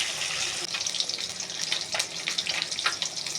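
Pieces of rui fish frying in a pan while being turned over give off a steady, fairly quiet hissing sizzle with scattered crackles and no talking.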